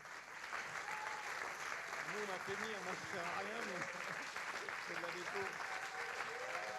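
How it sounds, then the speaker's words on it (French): Sustained audience applause at an awards ceremony for trophies fills the room steadily, with voices talking over it throughout. "je voudrais que vous les applaudissiez"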